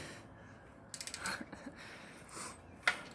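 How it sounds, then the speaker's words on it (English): Transmission being bolted onto the engine of a 1973 Chevy C10, faint quick ratchet clicks and metallic tool ticks in short bursts, with a sharper clank near the end, quiet and close. "Bolting the transmission onto the motor."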